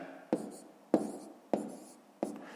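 Pen on paper writing numbers by hand for column multiplication, heard as four quiet, evenly spaced scratchy strokes, each starting with a soft tap and trailing off.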